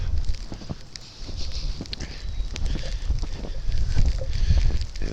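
Strong wind roars steadily through the opening of a snowstorm in the northern Adirondack Mountains, a dense low rumble with gusts swelling and easing, buffeting the microphone without a break.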